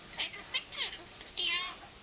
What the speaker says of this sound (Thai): ใครแกล้งลูกแมววะ